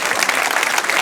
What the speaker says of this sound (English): Give them a round of applause because